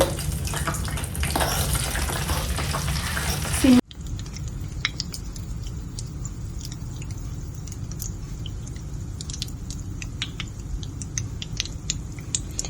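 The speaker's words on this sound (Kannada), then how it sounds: "ಇದು ಇವಾಗ ಒಂದು 2 ನಿಮಿಷ ಬಾಯ್ಲ್ ಆಗಲಿ." Homemade hair oil with rosemary and fenugreek boils in a pan, starting with a loud rushing burst, then settling into a quieter, steady bubbling with scattered small pops and crackles.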